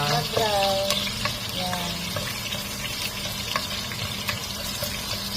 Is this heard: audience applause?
no